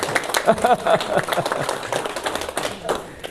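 An audience at a public history lecture claps in a short burst of close, uneven claps that thins out, with someone talking over it.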